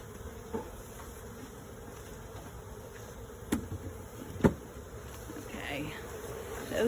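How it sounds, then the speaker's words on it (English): Honey bees buzzing steadily around an apiary hive as the roof goes back on, a constant low drone with a few louder close thumps and bumps from handling the hive. "Shaking the bees back down."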